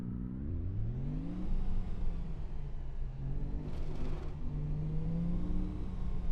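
Car engine from the Assetto Corsa racing game, driving a car called the Calin through a town, with a steady mid-pitched drone that climbs as it revs up and shifts gears, loud and continuous with no talking.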